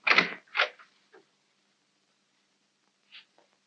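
An old interior door in a 1940s mystery film setting opens with a couple of creaky mechanical clicks and a short scrape, followed by a faint later tap, near and alone in silence.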